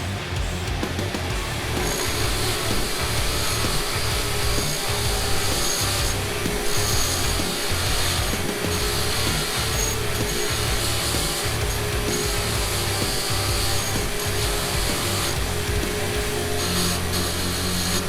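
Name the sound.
wire wheel cleaning a motorcycle countershaft sprocket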